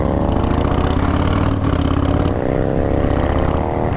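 Harley-Davidson Breakout 117 motorcycle engine running close by, a loud, deep, steady rumble with throbbing low pulses throughout.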